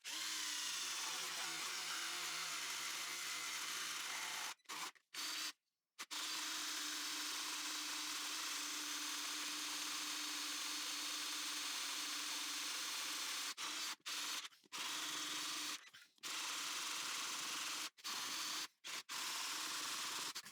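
An Evolution R13CMB-Li cordless drill driver with a 76 mm bit bores a hole in a steady loud whine, broken by several short stops and restarts toward the end.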